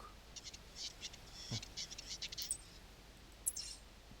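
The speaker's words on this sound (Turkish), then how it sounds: "Kendisinden bahsedildiğini anlayınca hemen bıcık bıcık bıcık bıcık ötüyor orada." Wood grouse calling in the hunting game theHunter Classic, a faint series of short high chirps and clicks spaced irregularly against a quiet background.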